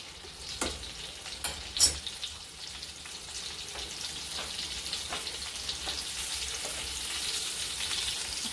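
Stuffed brinjals crackle and sizzle in a pan, with a few sharp spatula taps early on and a steady, growing hiss after.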